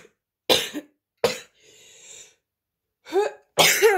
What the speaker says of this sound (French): je sens que je vais éternuer